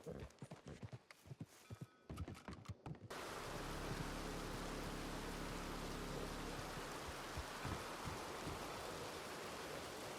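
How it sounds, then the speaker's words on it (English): Steady broadband hiss of rain falling in Red Dead Redemption 2 on WildRP, starting abruptly after a few seconds of clattering, hoof-like taps and voices, then continuing as an even, loud downpour with a low hum beneath. "Just rain. All the rain."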